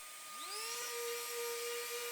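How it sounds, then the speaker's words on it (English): A power sander on a wooden cutting board, hooked up to a dust separator, winds up from a low pitch to a steady high whine, close and fairly quiet. "Now we can get to sanding."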